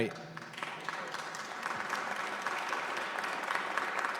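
Audience applause at a political talk, a steady wash of clapping that builds slightly and holds for several seconds, heard from within the room.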